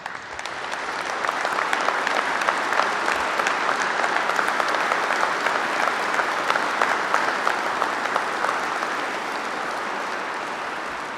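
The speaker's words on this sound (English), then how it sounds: "Let's give them a round of applause." A crowd applauds steadily and loudly at the funeral service for Overland Park Police Officer Mike Mosher, the dense clapping swelling quickly and holding for about ten seconds before easing slightly, with no voices over it.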